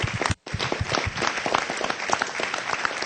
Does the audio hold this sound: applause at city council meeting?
yes